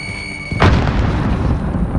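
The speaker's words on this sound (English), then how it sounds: "Grenade out." A grenade blast in the Warzone shooter bursts in suddenly after a quieter half-second of game ambience, a loud, close boom whose heavy rumble rolls on and fills the rest of the moment.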